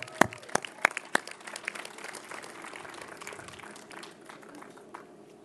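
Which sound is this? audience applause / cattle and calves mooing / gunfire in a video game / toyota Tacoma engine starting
audience applause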